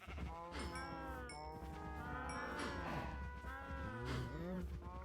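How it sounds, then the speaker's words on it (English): Minecraft cows mooing on a game farm, several overlapping low calls rising and falling in close succession, moderately loud with bleat-like tones throughout. "Breed up the cows."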